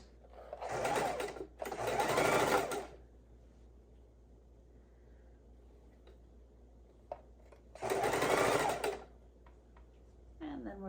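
A sewing machine runs a quarter-inch seam along pieces of a quilt in three short bursts. Quiet pauses separate the bursts, and faint handling clicks come through in between.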